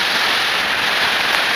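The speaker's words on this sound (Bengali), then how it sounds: "অনেক বৃষ্টি।" Heavy rain pours down in a steady, dense hiss across the whole stretch, loud and close, with no voices over it.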